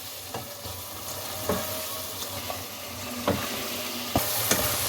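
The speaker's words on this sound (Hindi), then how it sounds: "इसमें टमाटर को अच्छे तरीके से इसमें मैश कर लें, भून लें" Tomatoes mashed and fried in a pan for keema pulao, a soft continuous sizzle with a handful of spaced spoon scrapes and taps against the pan, no voices.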